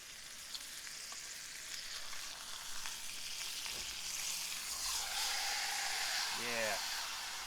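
Steak sizzles on a Star Fire camp stove burning yard waste, a steady broadband frying hiss that swells slightly after the meat is flipped, with brief clatter and a short vocal sound near the end.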